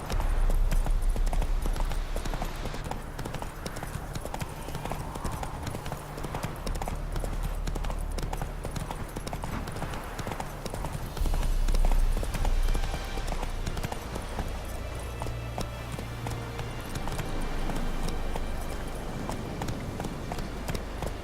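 A horse gallops across open ground in the video game The Witcher 3, its hooves beating a fast, loud, continuous clip-clop rhythm that swells and eases slightly, with no one speaking over it.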